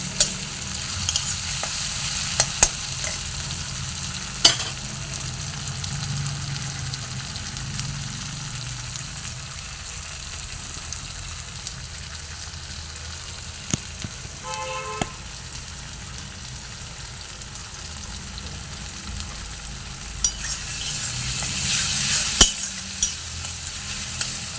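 Nigella seeds temper in hot oil in a pan, producing a continuous close frying sizzle with occasional sharp utensil taps and a brief metallic ring, with no talk.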